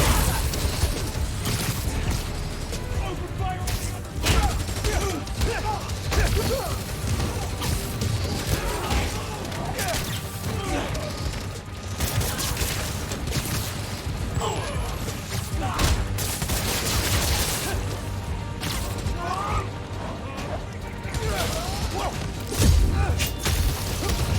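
Gunfire from a rooftop sniper in Spider-Man: Miles Morales, set amid constant loud combat noise with crashes and thuds filling the whole stretch, partly under talk.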